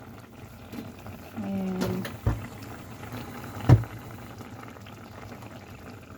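Tilapia paksiw in a covered pot bubbles at a gentle boil, a soft steady simmer with a couple of louder lid or pot knocks, while a voice speaks briefly.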